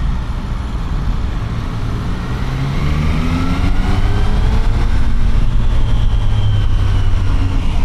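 A Triumph Tiger Sport 800 motorcycle is heard while riding, its engine droning steadily under rushing wind noise and rising in pitch as it accelerates.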